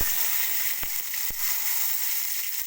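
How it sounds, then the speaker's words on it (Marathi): Mustard seeds sizzle in hot oil for a Maharashtrian tomato saar, a bright, constant hiss broken by a couple of sharp pops. "मी याच्यामध्ये मोहरी टाकून घेते"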